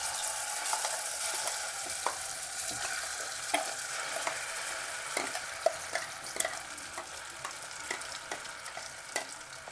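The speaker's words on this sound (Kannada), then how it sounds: "ಇದನ್ನೇ ಬೇಕಾದ್ರೆ ಈ ಒಗ್ಗರಣೆನೇ ಅದಕ್ಕೆ ಸುರಿಬೋದು" Oil sizzles steadily with a soft crackle as tempering is poured into raw mango chutney, punctuated by scattered clicks and light scrapes of a spoon, no voices.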